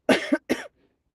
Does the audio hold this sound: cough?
yes